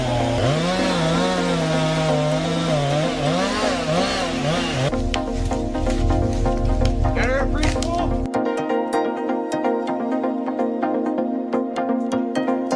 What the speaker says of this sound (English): The Quadco high-speed, high-capacity saw heads 27B and 28B are not just ordinary saws, they are true monsters in the logging industry.